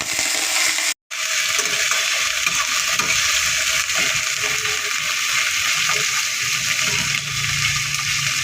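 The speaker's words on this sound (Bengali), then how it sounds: "তারপরে পেঁয়াজ কুচিগুলো দিয়ে দিলাম, দিয়ে এবার নাড়াচাড়া করে নিচ্ছি।" Chopped onions fry and are stirred in a pan for a masoor dal dish, giving a loud, continuous close sizzle with scraping stirs. It drops out for a moment near the start, then continues steadily.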